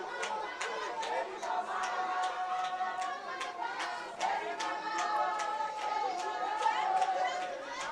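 A crowd at a rugby derby between Progress RFC and Buffaloes gives off a steady, fairly distant murmur of chatter and cheering, while a commentator talks over it throughout.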